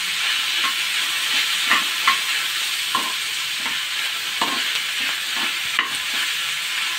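Chicken and vegetables frying in a pan for a chicken kulhad pizza give a steady close sizzle, broken every second or so by the scrape and tap of a stirring spoon.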